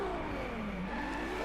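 Brief, steady high-pitched engine whine from a Ferrari LaFerrari's 6.3-liter V12, its pitch sliding slightly as it revs, with no talk over it.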